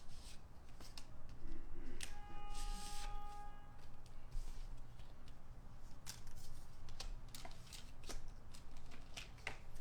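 Paper for a planner being trimmed with scissors, a few close crisp snips and rustling handling that run steadily through the stretch, with no talking.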